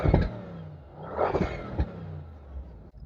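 Audi RS6 V8 from 2013-2018 revving with its exhaust, giving several deep, punchy bursts close by, one long swell in the middle and a short blip after it, then settling to a rumbling idle.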